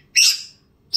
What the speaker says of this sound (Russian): Птица моя.